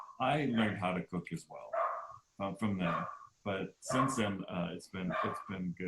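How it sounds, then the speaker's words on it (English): A dog barks in the background at an outdoor farmers market, its barks mixed in with close conversational talk that dominates the clip. "Sorry about the barking."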